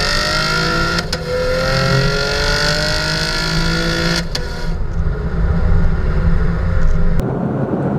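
A 2019 V6 RS Camaro accelerates hard, its engine note climbing in rising sweeps broken by sharp exhaust snaps at each gear shift, loud and close, with three distinct shifts.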